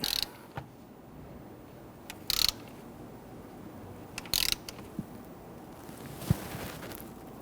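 A ratchet torque wrench tightens the nuts and bolts on an oil pressure switch of a 2011–2015 Kia Sorento, giving short bursts of close ratcheting clicks separated by quiet pauses and small handling knocks.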